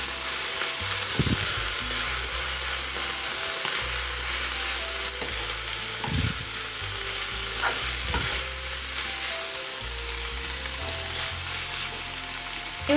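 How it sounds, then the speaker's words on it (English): Vegetables and mushrooms stirred in a hot pan, a steady sizzle of frying broken by repeated scraping knocks of the spoon against the pan, close and moderately quiet, with no voices. "So I will put these veggies in this and will give a good stir."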